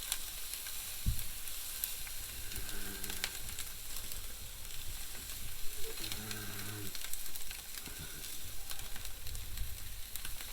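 Boneless chicken thighs cooking over an open fire pit give off a continuous sizzling hiss with scattered pops and crackles, fairly quiet and steady and with no talking.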